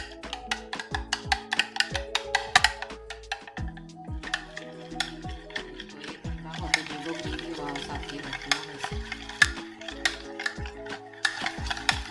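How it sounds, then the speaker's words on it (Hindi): Egg being beaten in a bowl with a utensil for coating chana kababs before frying, a close run of rapid, sharp clinking and tapping strokes in a busy, irregular rhythm with no speech. "अंडे को मैंने फेंट लिया है।"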